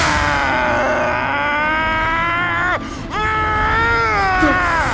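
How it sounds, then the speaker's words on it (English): A Bleach anime character lets out a loud, sustained, strained battle scream while charging into an attack. It holds steadily, breaks for a moment midway, then surges again. "listen to this scream, bro"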